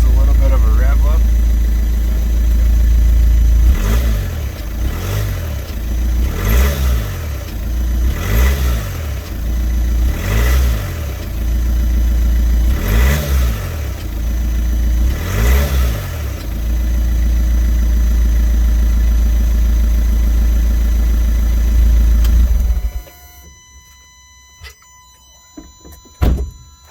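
A muffler-deleted 2014 VW Passat TDI diesel engine idling loud and close, then revved in six evenly spaced bursts before cutting out, with a few thumps near the end.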